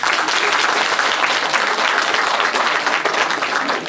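Dense, loud audience applause fills a stand-up comedy show, a steady wash of clapping from a large crowd lasting throughout with no voices above it.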